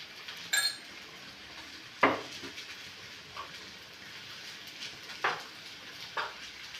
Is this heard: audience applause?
no